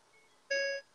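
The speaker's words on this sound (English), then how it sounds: "is your car done beeping?" A single short electronic car beep, a bright tonal chime lasting about a third of a second, sounds once at moderate level in an otherwise quiet room.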